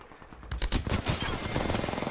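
Gunfire from another team in the game Apex Legends, a quick rattling burst of rapid shots that starts abruptly and keeps going under a muffled mix.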